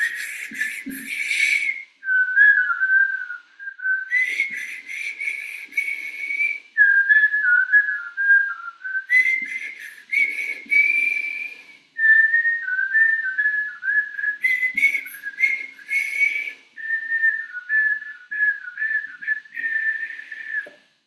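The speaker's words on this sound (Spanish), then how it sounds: "Vas a silbar hacia adentro y vas a silbar hacia afuera." A person whistles in long wavering phrases, alternating between drawn-in and blown-out tones, with brief breathy pauses between each stretch.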